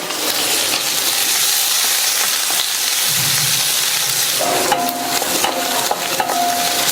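Chopped onions, sliced garlic, curry leaves and a cut dried red chili sautéing in a pan, a loud continuous sizzle with stirring and a few metallic spatula clinks near the end, close by and without speech.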